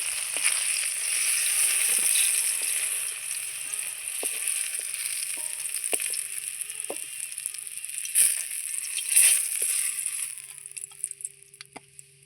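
Eggplant slices frying in hot oil in a home kitchen give a steady, close sizzle with scattered crackles and a few sharp pops, running alone without talk.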